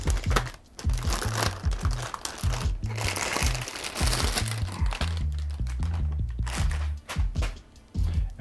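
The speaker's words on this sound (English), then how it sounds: "Let's take it out of the packaging." Plastic packaging crinkles and crunches as an ASUS ROG Strix GeForce RTX 3060 graphics card is unwrapped, steady rustling close up over a low music bed, with no talking.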